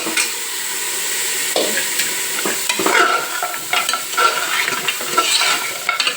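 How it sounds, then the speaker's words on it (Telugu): Mutton trotters frying in oil in a pan, a steady crackling sizzle broken by repeated scrapes and knocks of a stirring utensil, close and fairly loud, with no talk. "ఈ నూనెలో మంచిగా వేయించుకోవాలి"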